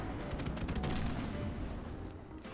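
A video game airstrike hits close to the player's own position, a dense burst of rapid booming blasts and crackling impacts that swells and then fades over a couple of seconds.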